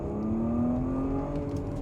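A Porsche Cayenne S accelerates hard in sport plus mode, its engine note climbing steadily in pitch as revs build, heard from inside the cabin with a smooth, sustained drone.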